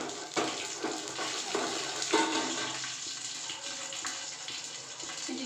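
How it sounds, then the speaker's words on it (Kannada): Garlic, curry leaves and dried chillies drop into spluttering mustard seeds in hot oil, setting off a loud, steady sizzle with crackling pops that carries on throughout, with no talking. "ಸಾಸಿವೆ ಸಿಡಿತಿದ್ದಂಗೆ ಬೆಳ್ಳುಳ್ಳಿ, ಕರಿಬೇವು ಮತ್ತು ಒಣಮೆಣಸಿನ್ಕಾಯಿ 3 ಒಟ್ಟೊಟ್ಟಿಗೆ ಹಾಕ್ತೀನಿ"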